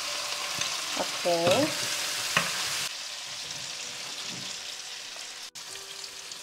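Minced garlic sizzles and crackles in hot oil in a wok while being stirred, cooking for a spicy noodle dish; the bright frying hiss is loud at first, then settles into a softer, steady sizzle with scraping stirs and a brief spoken word.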